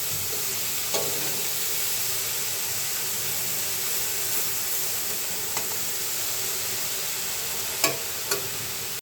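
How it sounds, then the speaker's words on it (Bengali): Water spinach (kalmi shaak) frying with shrimp in a pan, a dense, steady sizzle with occasional clinks of a spoon stirring, close and loud, with no talking. "নাড়াচাড়া করে দিই।"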